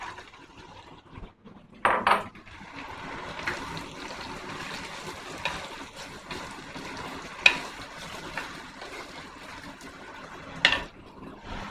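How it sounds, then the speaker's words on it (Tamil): Shallots sizzling in a hot pan while Palli Palayam chicken cooks, a steady frying hiss with a few sharp clatters of utensil against pan, fairly quiet and close with no voices. "ஸோ இப்போது நம்ம சின்ன வெங்காயம் போட போகிறோம்."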